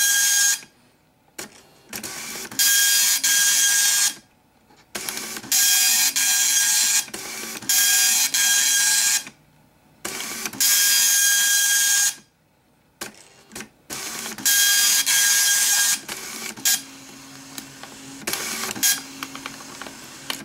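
A Citizen GSX-230 color dot-matrix printer prints in loud buzzing, screeching bursts of a few seconds each, with short silent gaps as the print head stops and restarts, heard close up.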